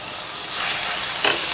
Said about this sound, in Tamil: அதில் வந்து நம்ம கழுவி வச்சுருக்க அந்த பாசிப்பருப்பை சேர்த்து நல்லா வறுத்துக்கலாம்